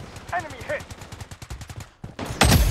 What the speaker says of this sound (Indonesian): ada suara tembakan